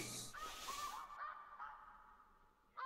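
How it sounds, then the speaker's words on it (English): Snow geese honk in theHunter Classic hunting game, a few nasal goose calls sounding faintly and at a distance, with a brief burst of rustling noise at the start. "we've got our first call here"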